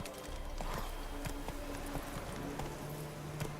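Roach, the horse in The Witcher 3, gallops with a steady, fairly quick beat of hoof clops over a constant background of game ambience and music, moderately close but not loud.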